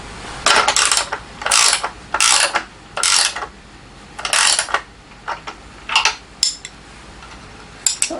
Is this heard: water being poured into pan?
no